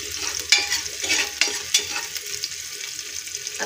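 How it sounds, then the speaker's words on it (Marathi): Mutton being stirred and fried in a pan with sliced onion, a close, steady sizzle broken by repeated scraping strokes of the spoon against the metal, with no voices. "त्याला छान असं फिरवून घ्यायचं"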